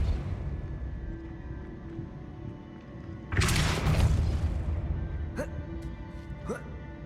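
Depulso force spell cast in Hogwarts Legacy, a sudden loud whooshing burst partway through with a rumbling tail over a steady game background, followed by a few brief chirping effects.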